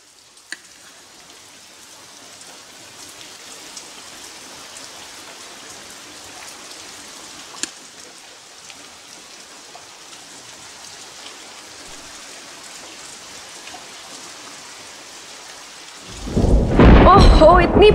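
Steady heavy rain hisses throughout, with a sudden loud roar of thunder or a downpour surge near the end.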